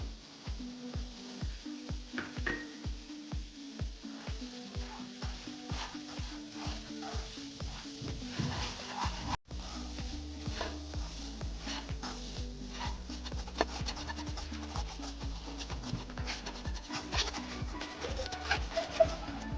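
Semolina (rava) roasting in ghee while being stirred for sheera prasad, with a steady soft sizzle and repeated scraping stir strokes close by, no voices.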